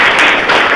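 Children clap together in a government school classroom in Salgi, Kudu, Jharkhand, making a brief, dense burst of close hand claps that blend into one continuous patter.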